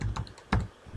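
Keys clack on a computer keyboard as a web address is typed, a quick run of close, crisp taps with a louder cluster midway and a short pause before the last few strokes.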